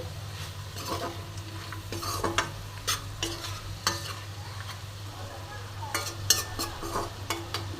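A spoon stirs crushed fried lentil dumplings into sautéed greens with bitter gourd in a sizzling pan, giving irregular close scraping and clinking strokes over a constant low hiss of frying, with no voices.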